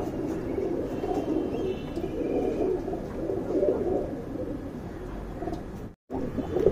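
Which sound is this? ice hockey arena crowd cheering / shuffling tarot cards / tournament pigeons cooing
tournament pigeons cooing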